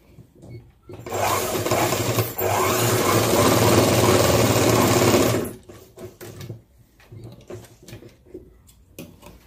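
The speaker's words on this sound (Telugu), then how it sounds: "దీని మీద ఒక కుట్టు అయితే వేసేసేయండి" A sewing machine runs a continuous stitching burst for about four seconds, sewing a line of stitches across cloth to attach a pocket; quieter handling noises follow, with no talk.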